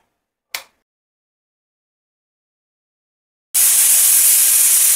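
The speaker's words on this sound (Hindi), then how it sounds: "कुकर को हम बंद कर देंगे और एक विसल आने देंगे" A short sharp click, then silence, then a loud, steady hiss of steam bursting out of a pressure cooker whistle and continuing at close range.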